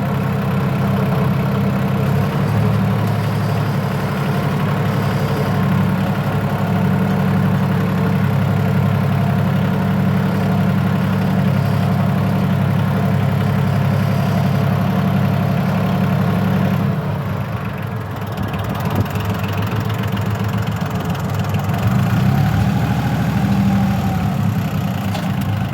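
A diesel loader tractor with a three-speed high, medium and low transmission runs at a steady, throaty drone, holding the same constant rumble throughout with only a slight dip near the middle.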